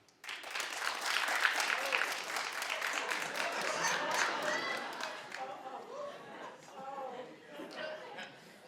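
A studio audience claps at a talk show, loud and dense at first, then thinning toward the end, with laughter and chatter mixed in.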